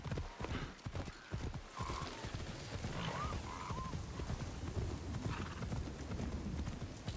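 Horse hooves in the video game Assassin's Creed Shadows, a steady clip-clop of a horse moving at a trot, with a brief whinny partway through over a constant outdoor ambience.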